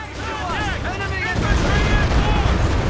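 A deadly artillery barrage in the Company of Heroes 2 strategy game, sustained rumbling booms and blasts filling the clip and growing heavier toward the end, with a voice talking over it.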